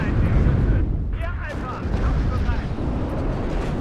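Recoilless rifle fire in the WARNO wargame sounds as a dense barrage of heavy booms and rumbling blasts that run together through the whole stretch, with a voice talking underneath.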